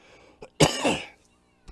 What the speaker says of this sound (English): I'm sorry, I'm coughing a lot today.